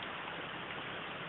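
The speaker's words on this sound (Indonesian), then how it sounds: "ini ada hujan" Steady rain falling over coffee plants in flower, a dense, even hiss heard close and alone with no voices.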